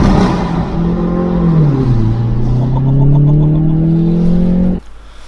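Hyundai i30 N Performance with its OPF removed and a dummy pipe fitted: a loud, close exhaust rev that dips, then climbs in a steady throaty drone before cutting off abruptly near the end.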